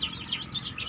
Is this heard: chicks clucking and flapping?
yes